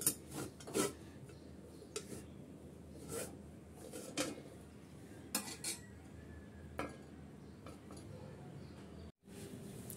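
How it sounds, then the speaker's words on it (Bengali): Gas stove knob clicked off and a pan of vegetable-filled buns lifted away, heard as scattered metallic clinks and knocks of cookware with a steady low background hum, no talk. "এখন আমি চুলাটা অফ করে দিচ্ছি আর চুলা থেকে নামিয়ে নিচ্ছি"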